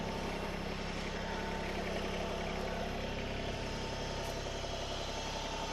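An MT125 tractor engine idles with a steady low rumble and vibration, constant and close throughout with no talking.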